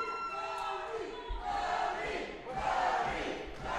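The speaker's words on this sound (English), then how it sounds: "crowd going bananas for the Arthur" A wrestling crowd at an RWA Uprising event roars and cheers loudly throughout, with rising swells of shouting and a steady wall of crowd noise; announcer-like voices are faintly mixed in.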